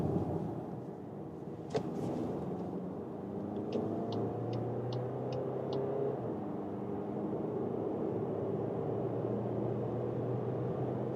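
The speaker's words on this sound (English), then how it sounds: "So this is here the 2-liter TDI for the all-new Volkswagen Tiguan." A 2024 Volkswagen Tiguan R-Line with the 2-liter TDI diesel and DSG transmission cruises fast on the Autobahn in sport mode, giving a low, steady cabin rumble of engine and road noise with a few faint electronic chimes.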